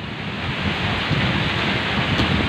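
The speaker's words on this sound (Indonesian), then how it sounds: "hujan angin teman-teman, hujan angin, badai" Heavy rain pours down with gusting wind, a dense continuous roar with low rumbling underneath, loud and close.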